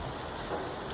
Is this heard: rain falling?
yes